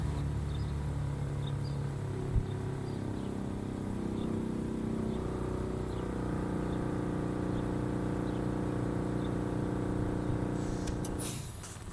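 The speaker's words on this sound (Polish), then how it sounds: "Słyszymy w tej chwili, że sprężarka zwalnia pracę i przechodzi w tryb auto defrost." A Fairland ComfortLine Inverter pool heat pump compressor hums steadily and close by with a layered tonal drone, then slows toward defrost mode and cuts off sharply near the end, leaving a faint hiss.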